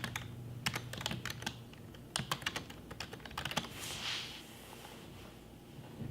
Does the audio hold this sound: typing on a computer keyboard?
yes